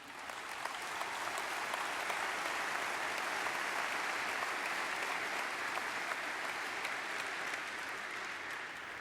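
Conference audience applause, a dense continuous clapping from a large crowd sustained at an even level throughout, heard alone without talk.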